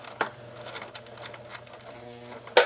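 A sewing machine makes a few short bursts of stitching on a Tilda-style fabric doll leg seam, close and fairly loud, with gaps between, a faint steady hum, and a sharp clack at the end.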